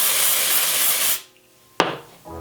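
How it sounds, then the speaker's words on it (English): Hair spray hisses from a can onto hair for about a second in a loud, steady blast, then a short second puff follows after a brief pause. "and just spray it."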